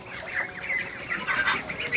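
A male duck (drake) on a home poultry setup gives a run of raspy, honking quacks in quick succession, close and fairly loud, with no talk over it.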